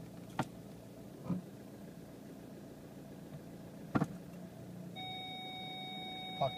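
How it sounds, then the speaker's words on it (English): A 2008 Ford Mondeo TDCi diesel idles quietly with a faint, steady low hum, broken by a few soft clicks and knocks, and a thin electronic beep near the end. "idles real nice."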